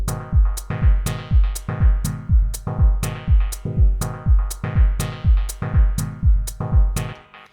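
A synth chord for dub techno, run through an Ableton echo and the Amazing Stereo Spring impulse-response reverb, repeats as a steady pulse of about a dozen stabs. Each stab blooms and decays into a lush metallic tail, with no talk.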